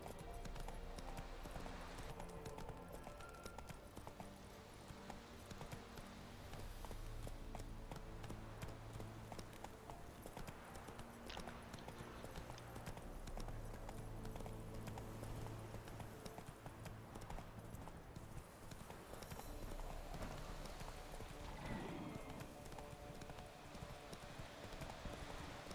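Horse hooves galloping in The Witcher 3 video game, a fast continuous clip-clop rhythm running under a constant bed of ambient game noise, steady and moderately loud.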